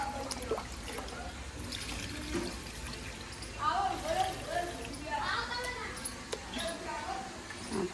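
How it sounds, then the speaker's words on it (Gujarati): Water poured onto flowering plants outdoors makes a soft splashing and trickling sound under background noise, with scattered bird chirps. "ફૂલ ઝાડને પાણી નાખી દઈએ"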